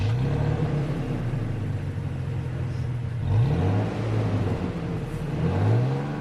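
2021 Toyota Tacoma pickup with an automatic transmission on the move, a low, steady engine rumble heard from inside the cab that rises a little as it speeds up.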